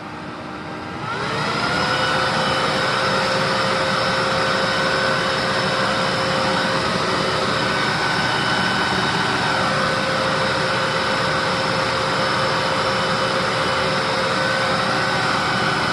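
A Bosch Formula Electro Duo canister vacuum cleaner runs on its highest setting, spinning up in the first second to a steady, loud, continuous motor whine with a broad rushing-air roar that holds unchanged to the end.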